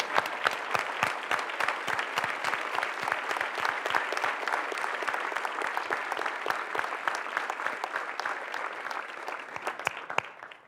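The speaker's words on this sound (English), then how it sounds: "Let's give them a round of applause." Steady applause from a large audience at the 2017 C40 Cities Bloomberg Philanthropies awards ceremony, dense and even throughout with a few louder sharp claps near the end.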